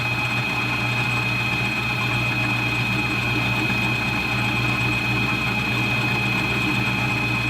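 A homemade mini lathe motor runs at low RPM, giving a steady, unbroken mechanical hum with a constant whine held throughout, close and fairly loud, with no talk.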